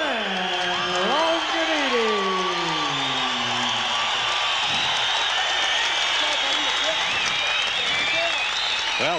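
A crowd applauds and cheers for heavyweight kickboxing champion Stan Longinidis at a kickboxing event, a steady roar of clapping and cheering that runs throughout. An announcer talks over the noise at the start.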